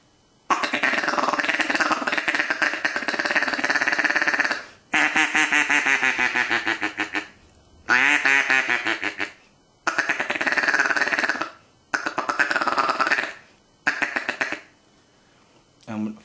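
A duck call is blown in a feed chuckle, long bursts of rapid, rolling ticking notes broken by short pauses, loud and close, with no one speaking.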